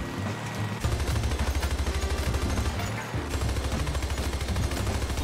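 Rapid automatic gunfire in a shooter video game, loud and continuous dense bursts filling the whole clip with a brief gap near the middle, no talk.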